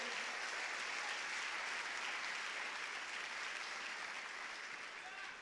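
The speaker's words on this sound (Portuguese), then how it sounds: "Se for para ele, você pode aplaudir." Congregation applauding during a sermon at a Lagoinha Niterói church service, dense, even clapping that holds steady and fades slightly at the end.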